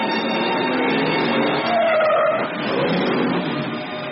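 A car skids during a road accident in the 1953 Hindi film Do Bigha Zamin, a sustained, loud screech of tires that runs steadily for about four seconds with no voices.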